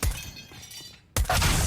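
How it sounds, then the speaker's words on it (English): A Molotov cocktail shatters in Counter-Strike: Global Offensive during a competitive match on the Flashpoint map. A sharp burst of breaking glass is followed by a short hush, then a second loud crackling burst. "Molotov to clear out the stack."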